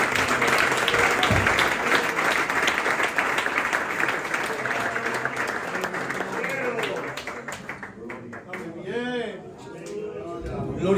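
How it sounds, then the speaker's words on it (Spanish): A church congregation gives loud, sustained applause for the Lord during a service, dense clapping that fades out as a voice starts speaking. "Fuerte el aplauso para el Señor."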